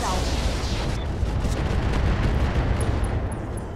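Mech weapons salvo in a BattleTech video game, a dense roar of heavy gunfire and explosive booms blending into a continuous loud rumble, with faint electronic beeps near the end.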